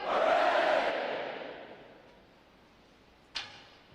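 Graduating Navy boot camp sailors shout a loud massed hooray in unison at a recruit training graduation, the cheer swelling at the start and fading into a reverberant hall, followed by a brief sharp knock.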